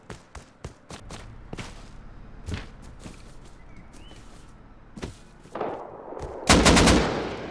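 Gunfire in the survival game Rust, a series of sharp, separate shots early on followed by a louder, denser burst of rapid fire near the end, with no talking over it.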